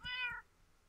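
A tamed cat in the Minecraft video game gives a single short, clear meow, fairly faint, with no talking over it.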